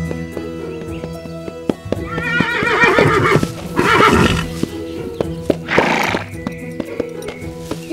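A horse whinnies loudly several times in shrill, wavering bursts, close by, over a steady background hum and occasional hoof clatter.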